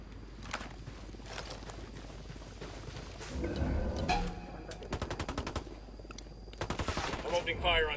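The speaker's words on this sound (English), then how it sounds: "I'm opening fire on these shitheads" Gunfire in the video game Ghost Recon Wildlands, rapid bursts of automatic shots in quick rattling sequences at mid-distance, over a steady background of game ambience.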